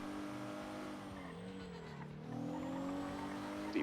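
A car engine drones steadily in a GTA roleplay driving scene, with a continuous mid-level hum and tire noise whose pitch dips and rises as the vehicle slows and picks up again.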